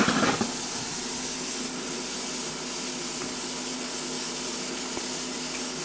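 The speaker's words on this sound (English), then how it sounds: "This is my RC servo opening up the steam valve if we want to reduce pressure quickly" Steam venting through a servo-opened pressure-release valve on an EveryCook digital cooker, a loud, steady, close hiss that runs unbroken for about six seconds with nothing else over it.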